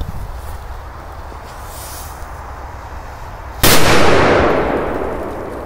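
A single loud, sharp firecracker blast cracks out after a few seconds of low outdoor rumble, its noisy echo slowly fading.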